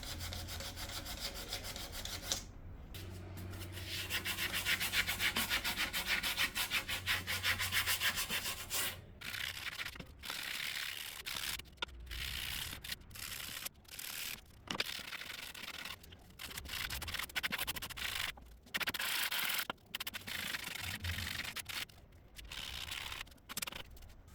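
Hand sanding on the wood of an antique chair, a close, rhythmic rasping scrub in repeated strokes broken by short pauses between passes.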